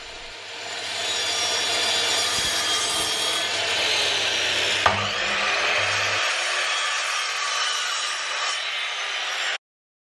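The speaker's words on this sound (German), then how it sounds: "Das Ober- und Unterteil meines Rahmens säge ich jetzt auf 45 Grad bis zur" Hand saw cutting wooden picture frame parts at a 45-degree angle: continuous close rasping strokes through wood for about nine seconds, steady and loud, then stopping abruptly.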